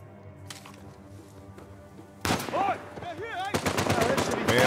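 Gunfire in Uncharted: A Thief's End, a quiet stretch with a few distant shots giving way to loud, rapid bursts of automatic fire with ricochet-like whines and scattered voices in the background.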